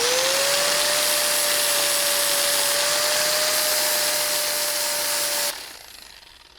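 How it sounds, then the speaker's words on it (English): Steady, loud whine of an angle grinder scrubbing rust off iron, a sustained abrasive hiss with a faint rising pitch for about five seconds, then cutting off abruptly into quieter background. "So I'm using an angle grinder to clean"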